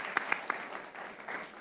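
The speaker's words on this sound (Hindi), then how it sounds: "बता दो भाई तालियां" Applause from a cricket audience after a Champions Trophy performance: a few sharp, close claps at the start, then softer, scattered clapping that briefly swells again before fading.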